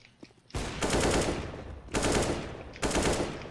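Loud bursts of rapid automatic gunfire in a game on the Inferno map erupt three times in close succession, each a dense sustained rattle with short gaps between volleys.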